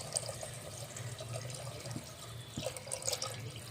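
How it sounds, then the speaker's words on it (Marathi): Faint splashing and trickling of water poured into a pot of millet and lentil khichdi, with small drips and gurgles, fairly quiet and close. "यामध्ये आणखी शिजण्याकरता पाणी टाकायचं आहे"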